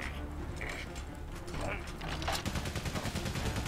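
Gunfire in the video game Valiant Hearts, a rapid rattling burst of repeated shots that builds in the second half over a steady background din, with faint voice-like sounds earlier.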